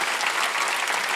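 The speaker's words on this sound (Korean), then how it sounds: "박수 치라고 이 얘기야." A church congregation at a Sunday worship service claps together in a dense, steady burst of applause, loud and close, with no talking over it.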